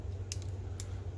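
Two quick, sharp snips of cutters through thin wires on an HO-scale Athearn SW1500 model locomotive, crisp and close against a low steady hum.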